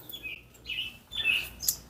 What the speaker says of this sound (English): There's a damn bird